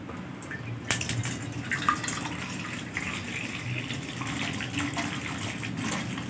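Water pours steadily for cooking an Ilocano vegetable and tilapia stew, a continuous close gushing splash with a few sharper knocks, heard alone without talk.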